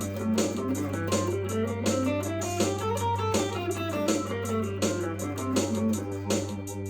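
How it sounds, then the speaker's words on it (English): A guitar plays the G Dorian mode scale, notes rising and falling at a steady pace over a constant low hum, with no talking. "That's Dorian mode in G"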